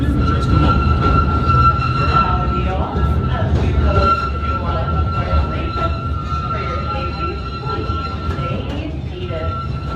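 A Disneyland Railroad train rumbles steadily into a station and slows toward a stop, with a continuous close mechanical drone and a faint sustained tone, while voices speak over it.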